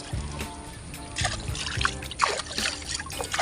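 Irrigation water trickles and dribbles through a flooded rice paddy during planting, a close, steady liquid patter with small splashes and sloshes rising and falling across the stretch.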